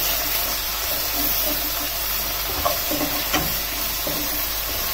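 Spices fry in a pan for a thin catfish and green plantain curry, giving a steady, close, even hiss and sizzle with a few faint clinks.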